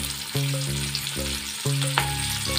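Onions frying in hot oil in a pan for an egg curry, a steady close sizzle with a few stirring knocks and scrapes, no voices.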